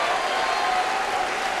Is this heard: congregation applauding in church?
yes